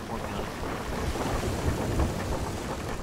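Stormy open sea in the pirate game Sea of Thieves, a steady roar of wind and crashing waves around a sailing ship, loud and continuous for the whole stretch with no talk.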